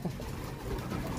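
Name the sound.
returning pet pigeon cooing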